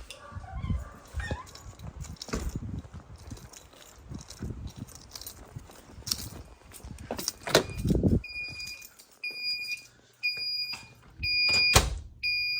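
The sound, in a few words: fire alarm sounding in a house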